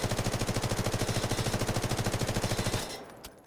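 An M4A1 rifle in Delta Force fires a long, rapid automatic burst of evenly spaced shots, loud and close, cutting off near the end and leaving a faint tail.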